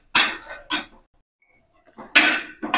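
Roasted chickpeas and chana dal dry roasting in a pan, heard as a few sharp bursts of rattling and scraping close by, with a silent gap in between and no talking.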